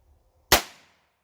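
A single sharp shot from a Heritage Rough Rider Rancher .22lr revolver carbine, a sudden crack close by that decays quickly into a short echo, with near silence around it.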